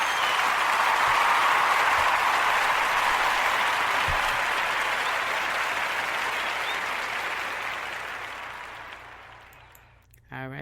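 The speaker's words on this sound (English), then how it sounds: "Let's give them a round of applause." Sustained applause from a studio audience on a talk show, a broad, loud wash of clapping that slowly fades over about ten seconds before ending abruptly.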